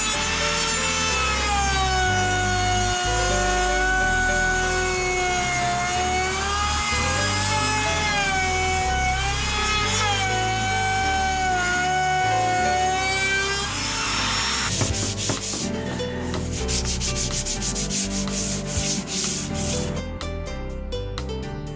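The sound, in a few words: router rounding the edges of a wooden table top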